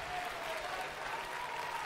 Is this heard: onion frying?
no